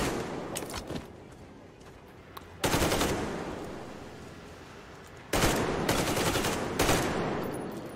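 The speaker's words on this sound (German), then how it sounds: "Jetzt habe ich schon geschossen." Automatic weapon fire in the video game Metro Exodus comes in loud, sustained bursts of rapid shots, separated by quieter stretches of ambient noise.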